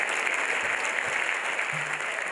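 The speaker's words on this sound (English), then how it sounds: "Let's give another round of applause for the spectacular Fanticello." Steady, dense audience applause fills a large hall at the Miss World 2013 pageant show, continuous and even throughout with no voices on top.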